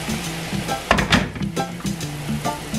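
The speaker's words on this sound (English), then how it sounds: "I'm just gonna pour a little water to cook it down." Chicken feet brown stew simmering down in a pan with added water, a steady bubbling sizzle with low rhythmic pops and a few louder bursts of stirring close by, no talk.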